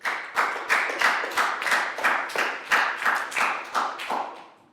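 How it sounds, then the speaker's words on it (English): Students in a Year 4 health lesson clap together for a classmate, a rhythmic round of about a dozen evenly spaced unison claps, close and clear, fading off at the end. "a big round of applause"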